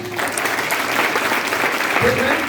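Audience applause at a Vestige initiation program event, a steady wash of clapping throughout with a voice heard faintly beneath it.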